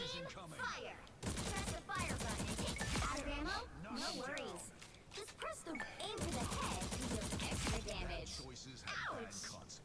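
Rapid bursts of video game gunfire in Marvel Rivals, clustered volleys with metallic pings, with someone talking over much of it.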